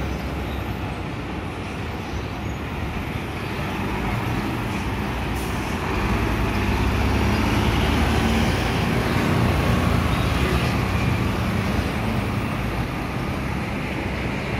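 Heavy vehicle traffic at the Purabaya Bungurasih bus terminal, with a trailer truck passing: a steady, dense low engine rumble and road roar that swells slightly midway and continues throughout, with no talk.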